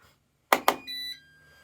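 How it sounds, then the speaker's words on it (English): Security alarm system chiming on activation: two sharp near thumps followed by a short steady electronic tone of about a third of a second, then quiet. "also the system will chime when I activate this"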